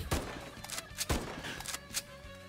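Sniper shots in Roblox Tower Defense Simulator crack out as three sharp, evenly spaced blasts about a second apart over a busy game background.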